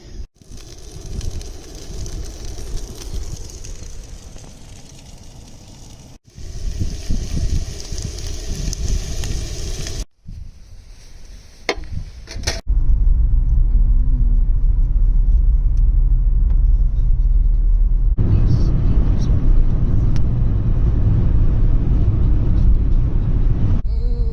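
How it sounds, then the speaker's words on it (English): Strong wind at a campsite near Pen y Fan buffets and roars in gusts, with abrupt breaks, then settles into a loud, constant low rumble that fills the rest. "It's very windy today."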